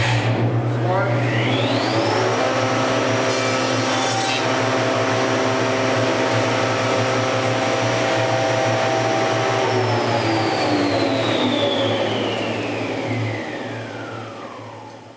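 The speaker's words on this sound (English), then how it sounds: "Here we've made our first cut, and we can see that it slides in properly against our rail." A PanelMASTER IV panel saw motor whines and rises in pitch as it spins up, holds a loud steady drone through a cut, then winds down near the end, with a low hum underneath.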